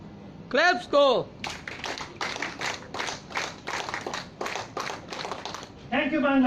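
Audience at a Scout and Guide fellowship ceremony claps in a steady, rhythmic burst lasting several seconds, with a voice speaking briefly before and after.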